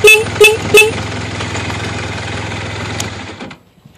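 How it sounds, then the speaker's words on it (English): Three short, loud honks from a 1980 Honda CB400 motorcycle horn in quick succession, close by, over a steady idling engine that cuts out near the end. "Horn works."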